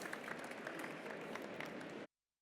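A faint, steady patter of audience clapping after a pitch presentation runs for about two seconds, then stops abruptly.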